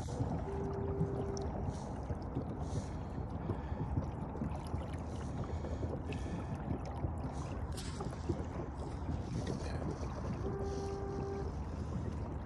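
A boat's engine runs steadily on the water near a river bend, a continuous low rumble that stays close and even, with wind and water noise throughout and no voices.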